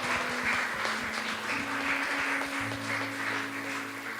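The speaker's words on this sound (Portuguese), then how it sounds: "Aplauda o Senhor." A church congregation applauds in steady, dense clapping that holds for several seconds at close range, with sustained organ or keyboard tones underneath.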